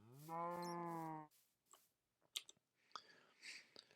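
A cow lows once in a video game, a long harmonic moo lasting about a second, followed by faint game clicks and soft rustling effects.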